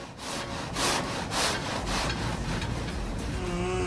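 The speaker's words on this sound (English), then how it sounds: "The chainsaw sounds so loud, like a monster roaring to life." A chainsaw cuts into a 14-foot western red cedar, its rasping bite pulsing in repeated strokes before settling into a steady loud drone, close and with no talk.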